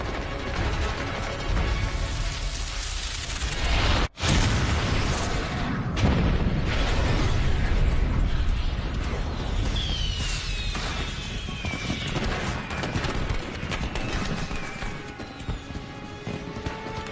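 Fireworks going off inside a warehouse in a TV action scene, a dense, loud roar of booms, crashes and crackling bursts running continuously with a brief sharp drop near the start and whistling streaks later.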